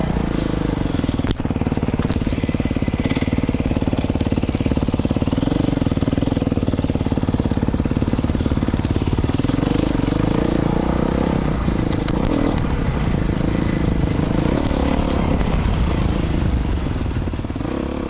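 Beta 500 dirt bike ridden hard over desert whoops near Ridgecrest, California, engine roaring continuously up close with wind buffeting, clattering and rough terrain impacts throughout.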